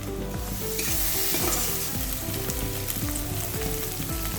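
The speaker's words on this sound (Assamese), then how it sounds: "পিঁয়াজৰ লগতে শুকান মাছখিনি ভাজা" Dried fish frying with onion in a pan, a steady close sizzle with stirring scrapes and clatter running throughout, no voices.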